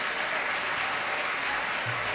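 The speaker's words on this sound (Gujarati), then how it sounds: "એકવાર જેવિલ અને એમના પિતાજી રાજેશભાઈને પણ તાળી પાડીને આપણે વધાવી લઈએ." Steady applause from an audience at a temple prayer gathering with evening aarti, a dense, even clatter of many hands that holds at one level from start to finish, with no voices over it.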